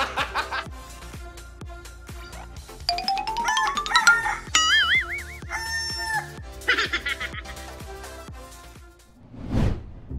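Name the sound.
chicken clucking and rooster crowing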